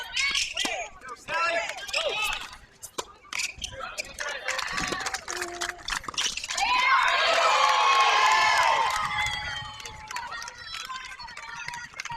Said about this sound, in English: we've got some serious cheering